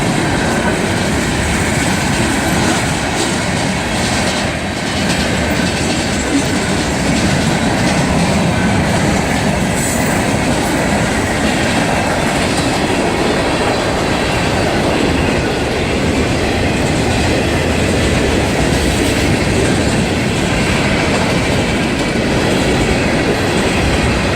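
A freight train hauling a long string of tank cars rolls past, its steady loud rumble and wheel clatter filling the whole stretch with faint squeals, heard up close and without talk.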